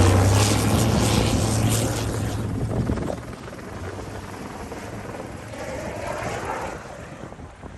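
A helicopter's rotor and engine roar steadily close by, with a low thumping hum that fades partway through into broad rushing noise.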